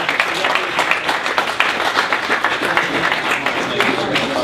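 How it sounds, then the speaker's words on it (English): Audience applause at a holiday pitch competition for the runners-up, a dense, loud crowd clapping sustained evenly throughout with no pauses, nearby and filling the room. "Give them a round of applause."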